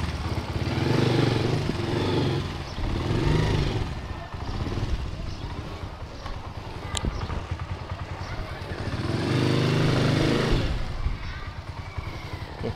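A Honda Master 125cc motorcycle being ridden, its small engine droning steadily and swelling in two louder passages, with rattling and wind noise close by, and someone talking over it at times.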